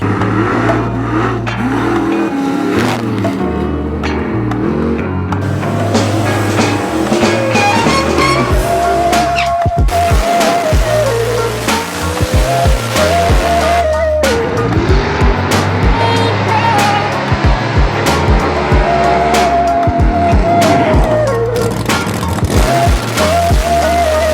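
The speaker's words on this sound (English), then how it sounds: "We are here at the beautiful Wayne County Drag Strip, Pikeville, North Carolina" Race cars at Wayne County Drag Strip in Pikeville, North Carolina roar continuously and loudly, engines revving and accelerating with occasional tire squeal, a dense unbroken wall of motor noise.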